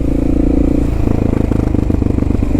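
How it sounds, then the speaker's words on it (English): A 50cc scooter engine buzzes loudly and close by, its steady drone turning to a choppy, rattling pulse as the throttle shifts, with faint clatter mixed in. "he's got another 50cc scooter"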